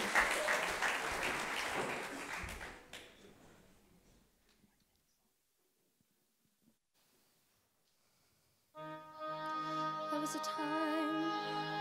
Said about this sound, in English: So can we please give a round of applause for Ava Davies, please?